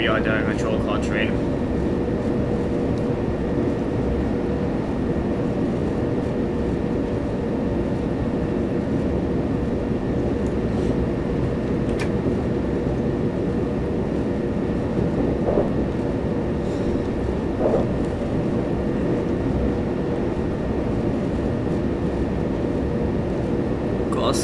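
A 12-car train runs in the Train Simulator 2018 game on the Brighton to Cambridge service, producing a steady, loud low rumble of motor and wheels that continues without a break, with a few faint clicks on top.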